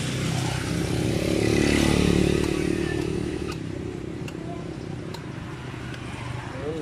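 A Yamaha Mio i125 scooter that had trouble starting runs with a steady, buzzing engine drone that rises briefly and then settles, close and continuous.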